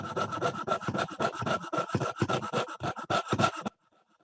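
A hand saw cuts a basic metal shape with quick back-and-forth strokes, a rapid rasping rhythm of about twenty short pulls that stops abruptly before the end, up close and with nobody speaking.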